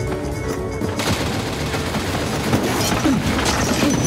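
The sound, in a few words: gunfire shooting a gas main in Gungrave VR video game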